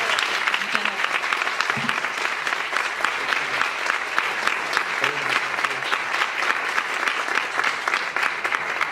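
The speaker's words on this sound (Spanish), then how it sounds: "démosle un fuerte aplauso" An audience at an international academic conference applauds a speaker with sustained, dense clapping that holds steady at an even level, with faint murmurs of talk underneath.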